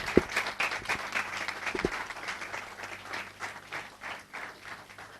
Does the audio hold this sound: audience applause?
yes